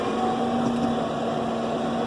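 New Holland tractor engine held at about 1,000 rpm in the highest low-range gear, a steady droning hum with a constant tonal whine, unchanging and close throughout.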